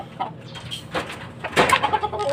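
Chickens cluck and chatter while feeding, short irregular calls close by, some louder bursts bunched together over a low background, with no one speaking.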